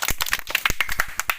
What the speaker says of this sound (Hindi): ताली मार पिले ताली